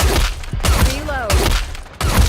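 Gunfire in the mobile shooter game Goddess of Victory: Nikke, a fusillade of repeated thumping shots that runs steadily through the moment, with synthetic game effects and character voice lines over it.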